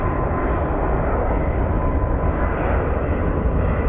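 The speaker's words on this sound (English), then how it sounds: "off to Philadelphia as this A321" An Airbus A321 airliner departs for Philadelphia from Sky Harbor International Airport in Phoenix, its engines a steady, loud, broadband roar that holds constant throughout.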